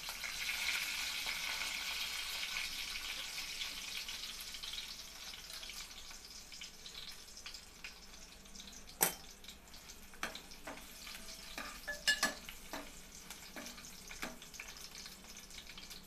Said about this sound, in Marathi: आपलं तेल छान इथे गरम झालेलं आहे। ते लसूण टाकते,